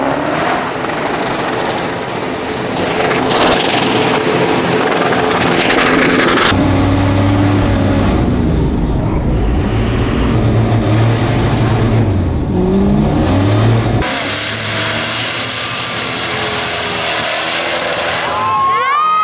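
A vehicle with newly fitted stiff suspension rolls slowly over wet ground, its engine and road noise steady and close throughout, with a few brief squeaks and knocks from the chassis.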